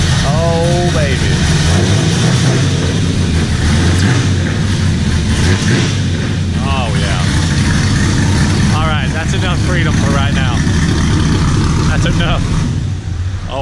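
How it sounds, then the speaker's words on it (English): A truck engine runs loud and rowdy throughout, with a steady low rumble and surging revs, while someone talks excitedly over it. "So good to hear the Dale truck up and ripping."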